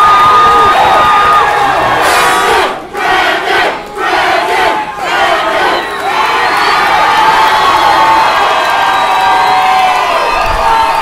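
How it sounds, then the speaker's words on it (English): A fight crowd at the Brandon Maynard vs Adam Gould bout roars and cheers loudly and continuously, with a brief dip in the middle before the shouting swells again. "the crowd is definitely into this fight"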